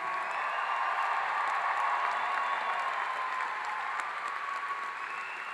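Sustained audience applause for new graduates at an evening Clemson University fall 2021 graduation ceremony, a dense, steady wash of many hands clapping in a large hall, loud and even throughout with no voices on top.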